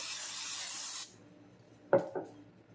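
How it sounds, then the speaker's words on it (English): A steady hiss of cooking spray onto an air fryer basket for about a second, then quiet followed by a couple of light clatters. "now I always spray my air fryer, even if it is a non-stick, you spray it"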